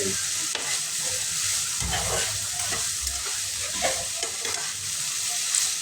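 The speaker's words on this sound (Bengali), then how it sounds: "শাক দেওয়ার পরে আমি ভালোভাবে নেড়ে চেড়ে দিব।" Greens (stalk amaranth) with onion and garlic stir-fried in oil, a steady close sizzle with scraping stirs and soft utensil knocks throughout, no voices.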